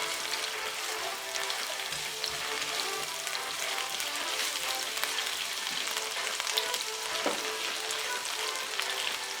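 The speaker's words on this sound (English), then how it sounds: "at the same pan, I remove some oil and drop the ginger." Ginger fries in hot oil in a pan with a loud, continuous crackling sizzle that holds steady throughout, close up and without voices.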